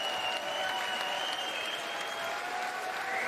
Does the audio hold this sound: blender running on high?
no